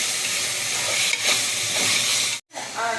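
Food sautéing in oil in a pan makes a dense, steady hiss close by, with faint stirring scrapes and a brief drop to silence shortly before the end.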